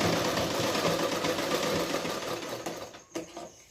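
A sewing machine runs steadily while stitching a blouse neckline strip, a rapid mechanical whir that slows and stutters to a stop near the end.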